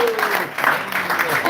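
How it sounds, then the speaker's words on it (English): Audience applause at a kirtan gathering honoring a guest musician, a short burst of clapping with voices mixed in. "Let's give him a round of applause"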